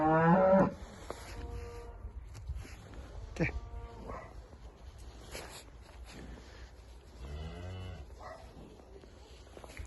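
Cattle on a farm in Birecik, with a young calf among them, give a loud moo at the start and further lowing calls amid farm noise and buzzing insects.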